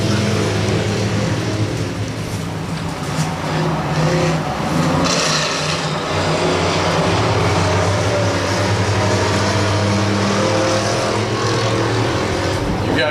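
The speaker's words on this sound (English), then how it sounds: "you can hear those tires chirping out there" Race cars roar loudly around a dirt speedway during a memorial race, engines droning continuously up close, with some tire noise from the cars mixed into the steady engine wash and no talk over it.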